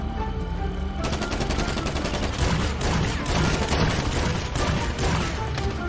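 Rapid bursts of video game gunfire from GTA 5 Online, dense and continuous automatic shots firing close and loud for several seconds with no talk over them.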